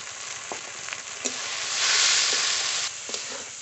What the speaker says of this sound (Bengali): মশলা কষিয়ে নিয়েছি ভালো করে। মশলা থেকে তেল ছেড়ে দিয়েছে।